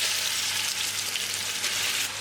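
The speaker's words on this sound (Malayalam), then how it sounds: "പിന്നെ നമുക്കിതിലേക്ക് അരിഞ്ഞ് വെച്ചേക്കുന്ന സവാള ചേർത്ത് കൊടുക്കാം" Chopped onions fry in hot coconut oil for a beef curry, giving a dense, loud, close sizzle that holds steady throughout with faint stirring underneath.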